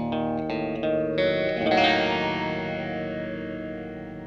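An EQD Interstellar Orbiter guitar pedal with filter A engaged shapes a few plucked electric guitar notes and a ringing chord into a swirling, filtered, distorted tone that decays slowly with a reverb-like tail.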